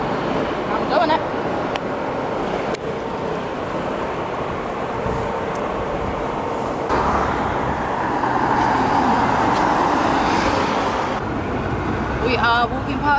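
Road traffic rumbles steadily past Vauxhall bus station in London, passing vehicles swelling and fading close by, while people talk over the street noise.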